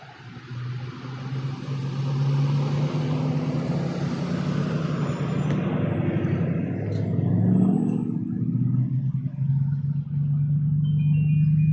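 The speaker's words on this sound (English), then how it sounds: "every one of these cars is going into the opposing lane of traffic" Vehicles drive past on a road where they swerve into the opposing lane around a parked police car, a steady loud rumble of engines and tires that swells as traffic passes and then fades, with no talk.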